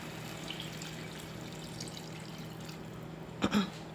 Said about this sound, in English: I'm going to add water, cover the pot,